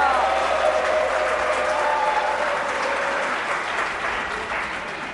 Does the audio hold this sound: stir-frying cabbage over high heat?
no